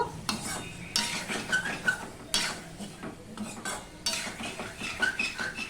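Ginger paste sautéed in a pan with a metal spoon, rhythmic scraping and clinking strokes over a low sizzle, close and fairly loud, no speech.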